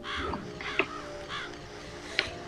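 Game crows in Psychonauts give scattered raspy caws over a steady low background hum, with a couple of sharp clicks in between.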